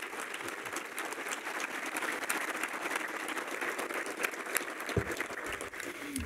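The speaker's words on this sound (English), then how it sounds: "And I think they deserve a round of applause." A roomful of people claps for school staff at a public schools address, a sustained, even round of applause at moderate distance lasting several seconds, with a few thumps near the end.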